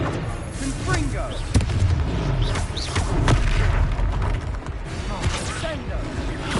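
Confringo fire spells burst in the game Hogwarts Legacy, several heavy booming explosions with sharp impacts over a dense, rumbling battle din.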